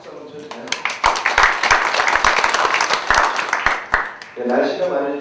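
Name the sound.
audience applause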